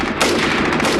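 Dense gunfire in an animated battle scene with a machine gun in a courtyard, a loud, continuous burst of rapid cracks that fills the whole short moment.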